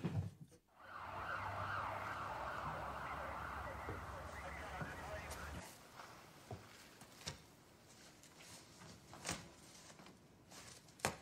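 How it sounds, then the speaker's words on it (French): An ambulance siren wails steadily for several seconds at moderate distance, then cuts off, leaving scattered thuds and rustling. "Vite, une ambulance!"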